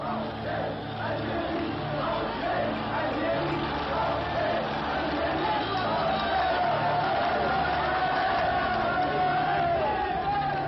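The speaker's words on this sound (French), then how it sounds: "il laisse délibérément la foule des Algérois en colère prendre d'assaut le bâtiment du gouvernement général" Angry crowd of Algiers storming the government building in 1958, a loud mass of shouting voices and roaring cries that swells steadily, with no single speaker standing out.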